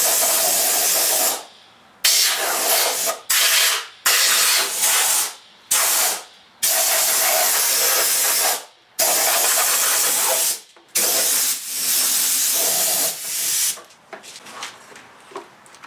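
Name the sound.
compressed air blowing old head gasket debris off engine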